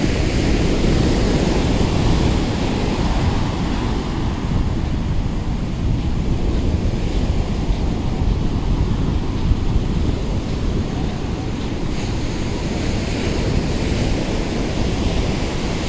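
Surf rolls in steadily at Calangute Beach in Goa, a loud, continuous wash of waves mixed with gusty wind buffeting the microphone, with no talking.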